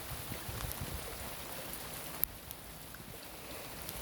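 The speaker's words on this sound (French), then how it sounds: "je sais pas si la pluie va s'arrêter" Steady rain falls during a moderate August thunderstorm in Montady, a dense even hiss close by with one brief sharp tick partway through.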